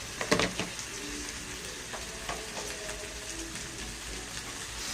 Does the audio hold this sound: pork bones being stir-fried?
yes